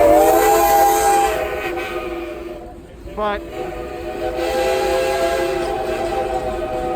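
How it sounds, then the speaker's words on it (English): The Frisco steam train at Silver Dollar City blows its whistle steadily over rumbling rail noise, with a brief voice heard partway through. "We definitely gotta get on the Frisco steam train for sure"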